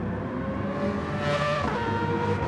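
A Porsche race car in a sim racing game, engine droning steadily at high revs with a brief rising surge, loud and close, no voices.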